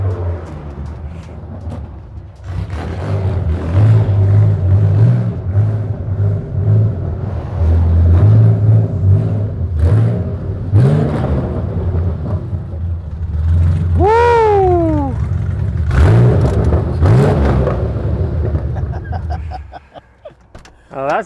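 An RWB Porsche 964 with a loud exhaust arrives, its engine droning and rising in revs over steady low rumble, growing close before cutting off near the end, with people talking over it.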